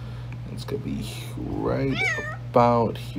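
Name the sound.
cat meowing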